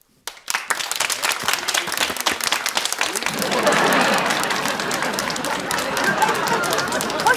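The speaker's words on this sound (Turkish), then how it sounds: "şimdi coşkulu bir alkışla yeni yarışmacımızı alıyoruz" A studio audience at a Turkish TV game show breaks into enthusiastic applause for a new contestant, starting with scattered claps that build within a few seconds into a full, sustained roar of clapping and crowd noise.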